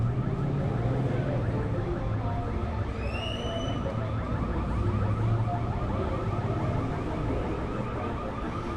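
An alarm sounding outside in Playa del Carmen, a faint rising and falling electronic wail heard briefly in the distance over a constant dense background rumble.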